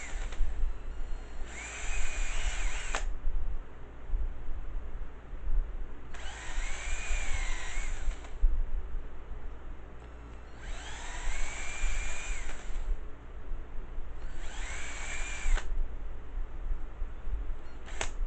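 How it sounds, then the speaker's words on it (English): A power drill cleans a burr off the back of an RC truck part, whining in four separate bursts of a couple of seconds each with quiet pauses between them, close and fairly loud, with no talking. "I'll try the drill too. I just want to clean the backside up."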